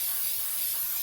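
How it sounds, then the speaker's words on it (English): A spray can mists a small journal with a continuous, even hiss lasting about a second, close and steady. "then we're going to spray it with"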